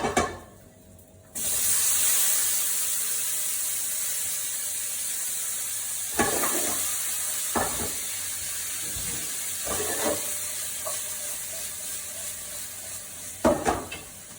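Tomatoes drop into a hot pan of toasted dried chilies and set off a loud, steady sizzle and hiss that holds throughout, broken by a few sharp clatters of stirring and utensil knocks.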